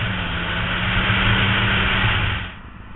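A loud Honda CB900F motorcycle engine drones steadily up close, then drops off sharply near the end.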